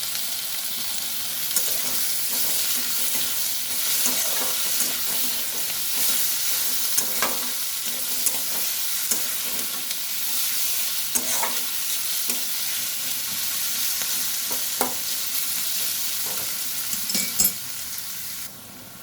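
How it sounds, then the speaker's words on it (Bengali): Chopped onion and jackfruit seeds fry together in a pan with a steady, close sizzle. Sharp stirring scrapes and clacks of a utensil against the pan recur throughout, with no talking. "এই পেঁয়াজের সঙ্গেই আমি কাঁঠালের বিচিগুলোও দিয়ে দেবো, একসঙ্গে ভাজা হোক।"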